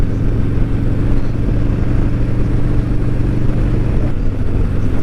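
An old Harley-Davidson Road Glide motorcycle fitted with Chemimoto soft lowers, ridden on the open road: a loud, steady low engine rumble mixed with continuous wind rush, unbroken for the whole stretch.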